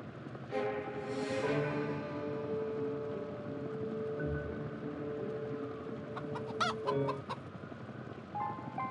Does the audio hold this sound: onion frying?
no